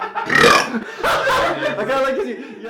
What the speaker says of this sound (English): he burps really loud at 4 a.m